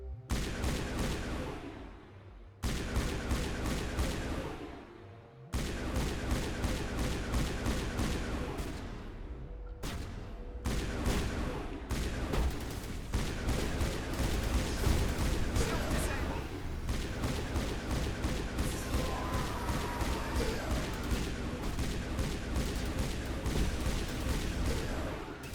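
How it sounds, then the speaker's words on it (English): Gunfire loaded with cryo ammo in the Mass Effect video game crackles in rapid, repeated bursts, with short pauses between volleys and sustained firing through the latter half, loud and close. "it sounds cooler now that I got cryo ammo in it"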